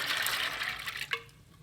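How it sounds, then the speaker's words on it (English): Beans and water pour into a crock pot in a steady splashing rush that ends abruptly with a brief clink, leaving quiet kitchen room tone. "we're going to go ahead and add the beans and the water."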